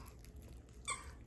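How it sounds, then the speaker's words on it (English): A flamingo squeaky toy gives one short, faint squeak against a quiet background. "It's hard to keep a straight face when you hear that squeaking sound."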